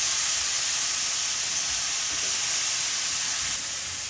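Bitter gourd drops into a hot pan of sautéed vegetables, producing a loud, steady hiss and sizzle that holds evenly throughout with no voices over it.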